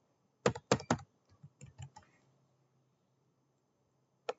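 Keys click on a computer keyboard in a short, close burst of quick keystrokes, then a few softer taps and silence before one last isolated key press.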